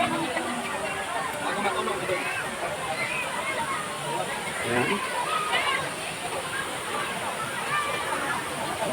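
River water flows and sloshes steadily near a bridge on a bright day, a continuous rushing wash with a person talking over it.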